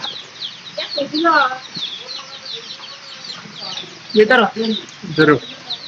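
Chickens being fed in the rain cluck and squawk nearby in short irregular bursts, with a few louder calls toward the end and a person talking between them.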